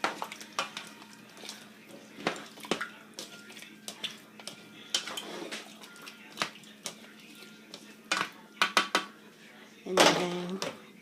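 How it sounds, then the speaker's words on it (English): Jamaican curry chicken mixed in a pot, a utensil knocking and scraping against the pot in uneven bursts with a wet, clattering texture, ending in a louder clatter. "And then you mix this up real good."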